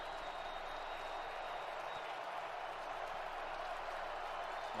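Dense, steady roar of a stadium crowd at an NFL game between the New York Jets and Minnesota Vikings, continuous broadband noise with faint scattered claps, fairly distant and unbroken throughout.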